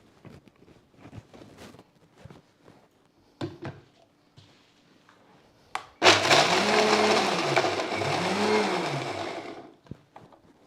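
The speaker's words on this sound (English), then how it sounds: "I'm going to just give them a quick chop in my blender first of all" A kitchen blender gives nuts a quick chop for sugar-free protein truffles, a loud steady whirring burst of about four seconds that follows scattered faint clicks and handling sounds.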